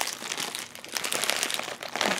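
American candy packaging crinkles close up, crisp plastic rustling and crackling continuously with no speech.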